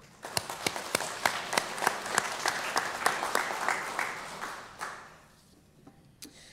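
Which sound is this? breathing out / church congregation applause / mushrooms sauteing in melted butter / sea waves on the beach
church congregation applause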